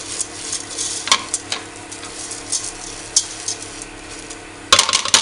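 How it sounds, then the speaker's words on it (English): Risotto rice being stirred and toasted in oil in a pan, a steady soft sizzle with scraping and occasional sharp clicks of the spoon against the pan, ending in a quick burst of clatter, close and with no voices. "you really want to move the rice around so it coats every grain of rice, gets some oil on it, toast."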